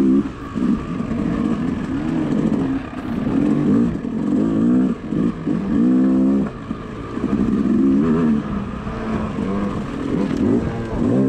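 A Yamaha YZ250 two-stroke dirt bike races through a field section at a Hillbilly GP round in Westphalia, its engine steadily loud and close, rising and falling in pitch with repeated revs and gear changes throughout.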